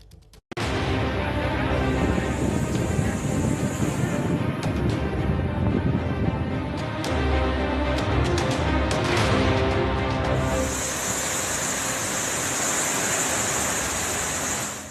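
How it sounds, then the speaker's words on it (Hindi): Stormy sea during Cyclone Jawad on the Odisha–Andhra coast, with a steady, loud roar of pounding waves and gusting wind that carries on throughout, with no speech. "समंदर पूरे उफान पर है।"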